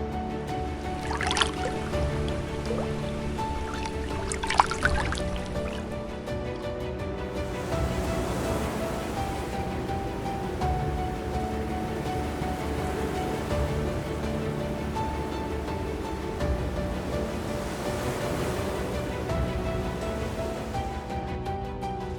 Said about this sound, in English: the sound of the ocean echoing off the stone feels like a sacred symphony